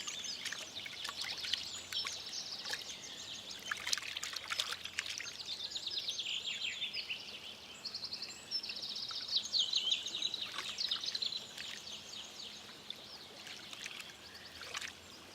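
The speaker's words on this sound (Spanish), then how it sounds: "El joven mapache ya es experto en el ritual del lavado de patas." A young raccoon washes its paws in water in a German forest, making soft, irregular splashes and trickling dabbles close by, with faint bird chirps in the background.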